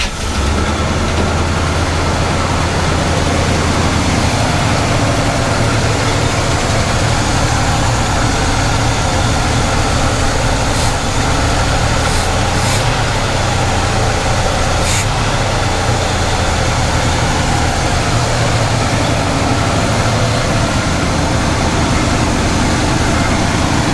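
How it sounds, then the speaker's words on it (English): A Cadillac Coupe Deville barn find engine idles steadily after sitting for 25 years, a loud, continuous low rumble that runs unbroken throughout with no talk over it. "I think we have a working engine. I'll let her run for a little bit."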